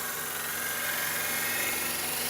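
A wood lathe turns as a tool back-cuts the curve of a wooden cowboy hat, giving a steady high whirring and hissing scrape with a low motor hum underneath, continuous and fairly close, with no talking.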